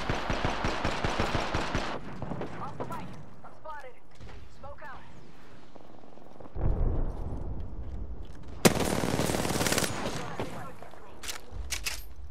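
Gunfire in the video game Apex Legends, with scattered rapid bursts and sharp shots mixed with mechanical clicks and game voice callouts, loud and near against a busy in-game soundscape.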